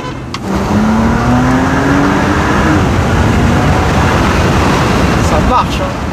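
Engine of a three-year-old Porsche Cayenne pulling hard on a test drive, a loud steady roar that rises slightly in pitch and holds throughout, with road and wind noise filling the cabin.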